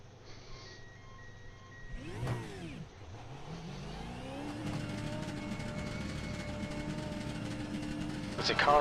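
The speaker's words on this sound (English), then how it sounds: "There's a car approaching." A V8 race car in a racing video game approaching at Donington, its engine sweeping past with a brief Doppler whoosh, then a sustained rising drone that holds loud and steady until the end.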